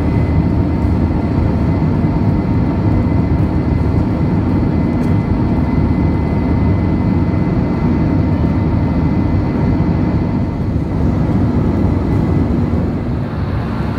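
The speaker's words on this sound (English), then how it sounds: "having taken off just recently, we're flying over Manila." Steady, loud cabin roar inside an EVA Air airliner climbing over Manila shortly after takeoff on a flight to Taipei, an unbroken broadband rumble with no voices.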